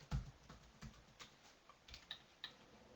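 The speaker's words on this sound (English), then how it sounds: "I'm going to go ahead and type to greet her" Fingers tapping on a computer keyboard, a handful of quiet, irregular clicks spaced across a few seconds, close and alone.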